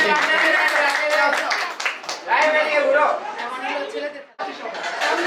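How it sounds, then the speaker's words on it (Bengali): A group of people claps at a small home birthday gathering, the clapping running on under loud overlapping chatter and some laughter. "সবাই হাততালি দিই একটা, সবাই হাততালি দিই"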